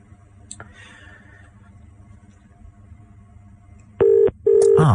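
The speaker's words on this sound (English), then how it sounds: "I'm going to phone this guy" A telephone number is dialed on a radio phone-in line. After a quiet stretch with faint clicks, a pair of loud, close electronic dialing tones sound near the end.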